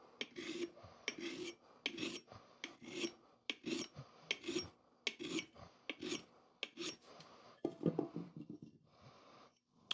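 A hand file rasps along the edge of a vintage axe in steady back-and-forth strokes, about a dozen close, rhythmic passes with short pauses between them and no talking.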